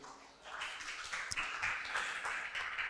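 Audience applause at a startup demo day summit stage, a steady, moderately quiet patter of many hands clapping throughout.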